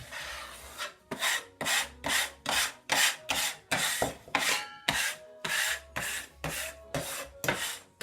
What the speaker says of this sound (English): I'm gonna scrape my flour.